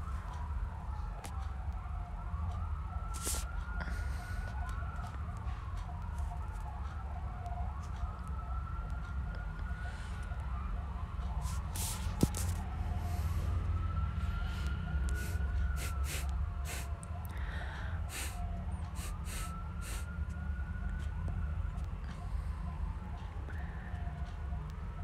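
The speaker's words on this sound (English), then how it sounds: "Ambulance everywhere" Ambulance sirens wail in a slow rising-and-falling cycle, repeating about four times at a moderate distance over a low rumble of traffic, with scattered clicks and brief sharper noises.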